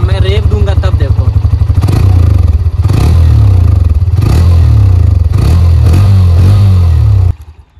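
A Hero Xtreme 125R 125cc motorcycle engine revs loudly and close by, its throttle blips rising and falling in steady pulses, with a person talking over the engine noise until it cuts off abruptly near the end.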